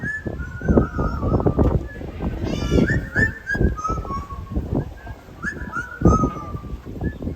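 A parrot at a show at African Lion Safari, Hamilton, whistles a series of varied, warbling tonal phrases in short bursts, with low rumbling background noise throughout.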